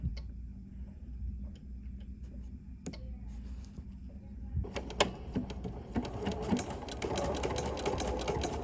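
A sewing machine stitches a fabric tray, skipping every other stitch, with a steady mechanical ticking that starts soft and sparse, then grows louder and busier with rapid clicking in the second half.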